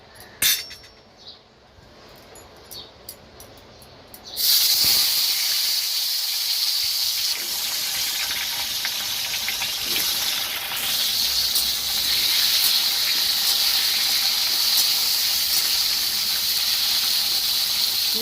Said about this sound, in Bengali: এবার আমি এর মধ্যে পটলগুলো দিয়ে ভেজে নেব।